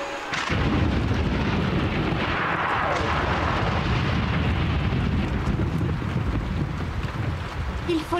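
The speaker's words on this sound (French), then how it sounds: "Laissez passer l'orage, Yakari." Thunder from a storm on the plains in an animated children's series rolls in a heavy, sustained rumble. A broad wind-like roar fills the whole stretch, loud and unbroken.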